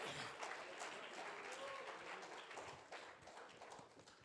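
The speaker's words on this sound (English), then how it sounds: "Another round of applause for our chairman." An audience at a transport industry panel applauds the chairman, many hands clapping in a steady, even wash throughout, tapering slightly near the end.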